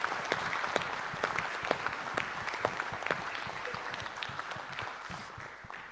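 Applause from the assembled members and public at a municipal council meeting, a steady dense clatter of many hands filling the room for several seconds, with a voice briefly speaking at the start.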